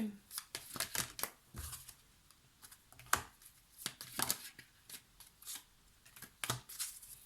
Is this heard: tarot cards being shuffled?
yes